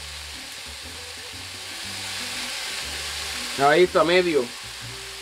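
Bacalao stew sautés in a pan with tomato, culantro and achiote, a steady close sizzle of frying running throughout while someone speaks briefly over it near the end.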